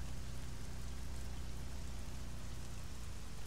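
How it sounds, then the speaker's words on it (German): Heavy rain in the video game ARMA 3 makes a steady, dense hiss and patter. It stays loud and even throughout, with no talking. "Der Regen ist aber abartig."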